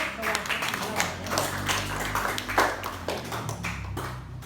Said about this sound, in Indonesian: Kasih tepuk tangan dulu 100 untuk